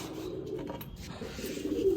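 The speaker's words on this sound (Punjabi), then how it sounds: "ਲੋ ਜੀ ਛੜਤੀ ਕਬੂਤਰੀ" A pigeon coos softly and repeatedly close by, its low throaty calls rising slightly toward the end over a quiet background.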